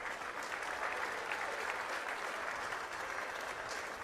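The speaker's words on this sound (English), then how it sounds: "Can we give all of those teams a huge round of applause?" Steady, even crowd applause for the teams at a Commonwealth championships grand final, a continuous wash of many hands clapping throughout without a break.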